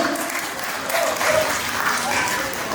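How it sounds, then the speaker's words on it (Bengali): An audience claps their hands in a steady, dense round of applause lasting the whole moment, close and fairly loud, with a voice faintly mixed in. "হাততালি দাও"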